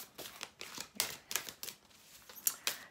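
Large oracle cards being cut and shuffled, a quick series of soft crisp slaps and riffles, about eight short bursts in under three seconds, faint and close with no talk.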